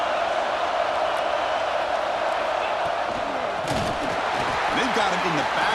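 Dense, roaring crowd noise at a Nebraska college football game, a broad steady wall of cheering that fills the whole stretch, with a voice talking over it.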